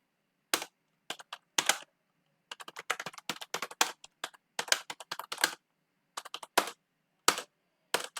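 Keys clatter on a computer keyboard as a command is typed, quick irregular bursts of crisp clicks with short pauses between words, close and clear with no voices.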